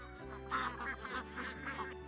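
Ducks on a farm in Slovenia quack and honk in a nasal, overlapping series of calls, close and moderately loud above a steady low hum.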